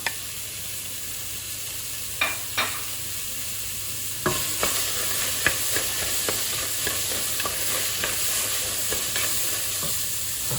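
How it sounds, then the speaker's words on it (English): Onions frying for ghormeh sabzi in a pot preheated on maximum heat: a steady, close sizzle with sharp clicks and scrapes of stirring that grow busier as cooking goes on, no voices. "Now she's gonna add the onions."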